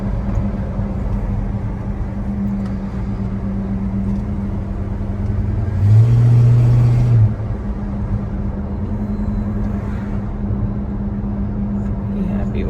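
A 1970 Chevrolet El Camino engine on a test drive, a steady loud low rumble from inside the cab, swelling briefly as it accelerates before settling back to a cruising drone.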